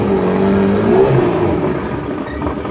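A Honda Civic VTi turbo drag car, 500 kg with 500 PS and front-wheel drive, roars loudly and steadily up close at the drag strip, its engine note holding strong before easing slightly, with no voices.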